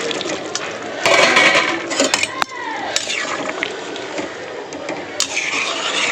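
Fried eggs tipped into a simmering potato curry in a home kitchen, with clattering utensils against the pot and wet bubbling, near and moderately loud, broken by a few sharp knocks.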